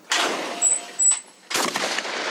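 Rifle fire at the Paea Shooting Club: two sharp, loud reports about one and a half seconds apart, each trailing off in a noisy rumble, with a faint high whine between them.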